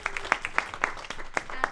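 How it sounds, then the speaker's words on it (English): An audience at a student-led lecture series gives the speakers a brief, thin round of applause: a handful of separate, sharp hand claps spaced irregularly over a quiet room. "we should give them a clap."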